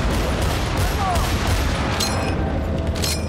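Gunfire in the Battlefield 1943 video game comes as dense, continuous bursts of shots and booms that fill the whole stretch. The noise is loud and constant, with no clear pauses.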